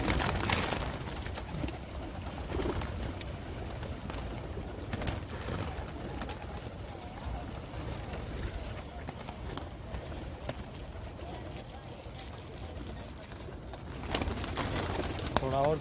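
Pigeons cooing and fluttering outdoors near the Cave of Hira in Mecca, a dense low cooing blended with wing flaps and crowd bustle, steady throughout with faint voices underneath.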